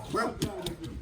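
A dog on a farm in Jamaica gives short yips and whimpering barks, fairly close, mixed with a voice talking over it.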